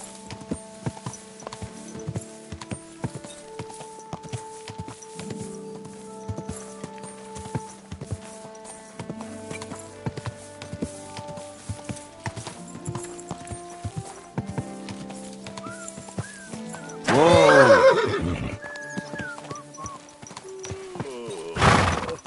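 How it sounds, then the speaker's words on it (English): Hooves clop in a steady walking rhythm with synthetic game-like tones, and a loud horse neigh breaks in near the end, with another snort at the close. "Easy, good horse."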